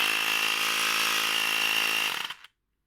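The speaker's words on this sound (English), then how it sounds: "there's a little noisy compressor in the bottom here somewhere" A small Vastar portable tyre air pump with a compact compressor and rechargeable battery buzzes at a steady, close, fairly loud pitch, then winds down and stops abruptly near the end, leaving silence.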